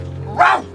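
A single loud, close bark-like yelp from a human voice imitating a dog, as people bark at a gate in the film Dogtooth (Kynodontas).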